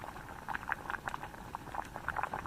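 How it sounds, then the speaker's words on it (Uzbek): Water for Rolton instant noodles simmers in a pot, a faint steady bubbling with soft popping patters scattered throughout, quiet and close. "Qaynatamiz. Rolton pishadi."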